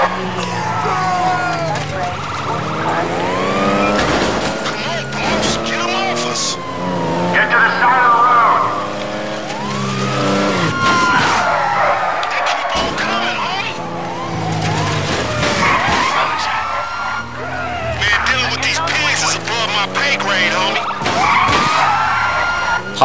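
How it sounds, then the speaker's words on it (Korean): Several police cars in the video game GTA 5, with sirens wailing and swooping, engines revving and tires skidding in a loud chase, while someone talks over the action. "야, 경찰차 몇 대가 오는 거야?"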